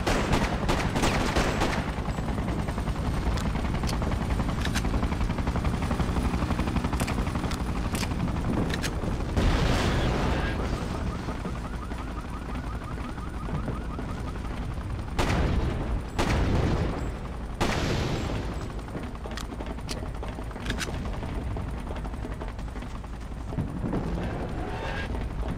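Rapid, dense gunfire keeps going in the Freedom Fighters video game as soldiers are shot, with automatic bursts and sharp individual shots stacked over a constant loud battle din, no clear talk.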